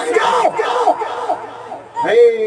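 A gathered crowd at an Islamic religious sermon roars back in unison after a Naara-e-Takbeer call, loud massed shouting that briefly dips before swelling again.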